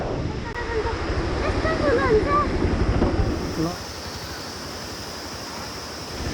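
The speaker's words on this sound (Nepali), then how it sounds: "ओहो खोला त ठुलो रहेछ कसरी तर्ने त ल" A large mountain stream, the Milti Khola in Ramechhap, rushing in a steady broad roar close by, with a voice talking over the first half.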